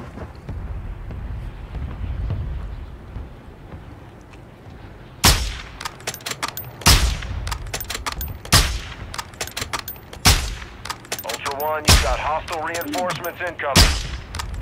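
Gunfire in Call of Duty DMZ: a long run of loud, sharp shots and rapid bursts, some cracking close by and others echoing, starting after several seconds of low rumbling ambience.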